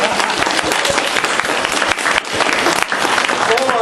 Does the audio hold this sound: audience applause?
yes